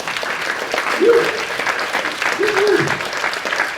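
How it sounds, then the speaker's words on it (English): Clapping from an audience at a startup pitch contest awards event fills the clip, a dense steady patter with a few voices mixed in. "Audience applause."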